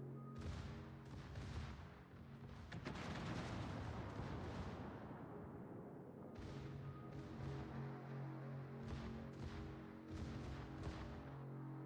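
Naval gunfire from a warship firing HE shells in World of Warships, heavy booming salvos rolling in repeated bursts with a dense low rumble, loud and continuous over a steady background hum.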